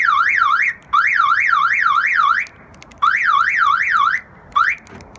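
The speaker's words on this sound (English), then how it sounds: "It gets really bad though when the alarm actually goes off." An Acura Integra car alarm blares close and loud, a rapidly warbling electronic tone that sweeps up and down in bursts, cutting off briefly between repeated cycles.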